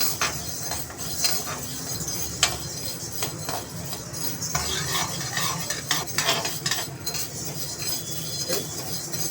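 Lentils roasting in a pan for idli podi are stirred steadily with a utensil, giving a close, continuous scraping rustle with frequent light clinks against the pan and a faint sizzle underneath.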